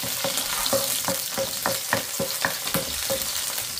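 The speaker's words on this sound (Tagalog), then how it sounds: "Ayan, mainit na. Ilagay na natin ang bawang." Garlic frying in hot oil in a home kitchen while adobo is being made, a steady close sizzle broken by repeated sharp stirring scrapes at a quick, uneven rhythm, with no talking.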